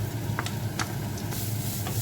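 Carrot and chickpea mix frying in a pan over high heat, a steady broadband sizzle with light scraping stir strokes near the start, close and continuous with no talking.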